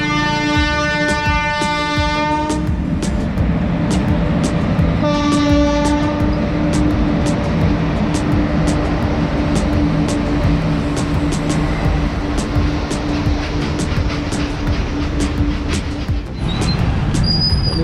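Train rumbling past a railway crossing in Dantewada, Chhattisgarh, with horn blasts at the start and again a few seconds later, a steady rhythmic clatter of wheels over rail joints throughout, and a faint squeal near the end.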